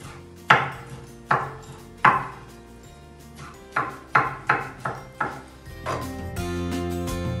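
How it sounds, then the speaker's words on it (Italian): A knife chopping raw prawns for tartare on a cutting board, about ten sharp, close knocks in uneven bursts with brief pauses between them, then a softer scraping at the end. "prendiamo i gamberi e iniziamo a tagliare"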